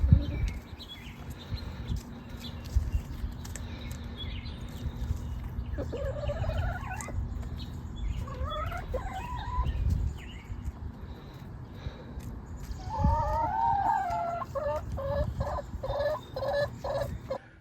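Backyard chickens cluck and chirp in short bursts while eating radishes from the garden, heard fairly close over a steady low rumble of outdoor background noise.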